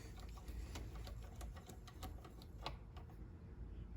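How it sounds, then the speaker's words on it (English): Rapid ratcheting clicks from a speeder wrench snugging down a part during assembly of an E4OD/4R100 automatic transmission, a quick irregular ticking that is close and fairly quiet. "And use my speeder wrench just to get this thing down snug."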